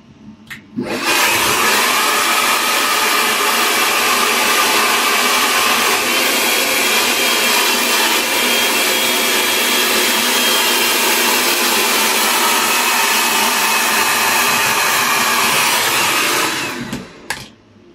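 A GHD Helios hair dryer blows steadily and loudly for about sixteen seconds, a constant broadband whoosh that starts and cuts off abruptly, with no talking.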